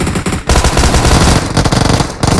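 Rapid automatic gunfire in the mobile battle royale game PUBG Mobile, loud dense bursts of shots cut by two brief pauses, close and overwhelming with no talking.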